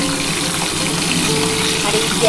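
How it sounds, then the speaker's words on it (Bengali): Pieces of snakehead (shol) fish fry gently in a pan for a spicy curry, producing a loud, steady sizzle close up with no talking. "আমি মাছটা কিন্তু খুবই হালকাভাবেই ভাজছি।"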